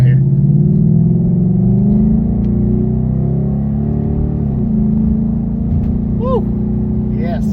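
A Ford Mustang engine rumbles loud and close in a deep, steady idle, its pitch rising a little early on and then settling into a low drone. Faint background sounds come through near the end.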